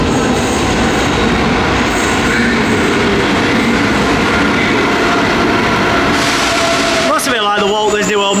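A Rome Metro train pulls into a station with a loud, continuous roar and rumble that builds, then sharp squealing wheels and brakes as it slows near the end.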